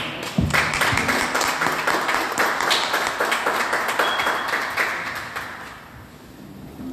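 An audience at a formal welcome event breaks into dense, steady applause of many hands clapping together, holding strong for several seconds before tapering off near the end.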